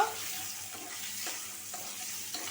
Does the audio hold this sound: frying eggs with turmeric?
yes